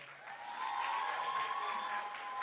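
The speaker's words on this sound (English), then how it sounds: "Let's give Overton a round of applause." A school audience at a kick-off celebration claps for Overton, a soft and distant blur of many hands that swells slightly and holds steady, with a faint tone running through it.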